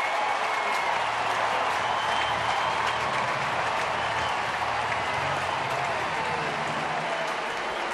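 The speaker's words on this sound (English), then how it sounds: "that's the hit that got this crowd into it" A San Diego baseball crowd cheers and claps after a run-scoring base hit, a loud, sustained roar of applause that holds evenly and eases only slightly near the end.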